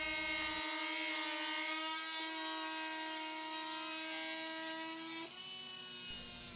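Two oscillating multi-tools fitted with new Starlock blades cutting together, a loud continuous buzzing drone with steady high whine that shifts pitch slightly midway, close and alone without voices.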